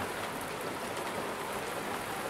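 Steady rain falls outdoors in a livestock farming area, a dense continuous patter with no pauses and no voices.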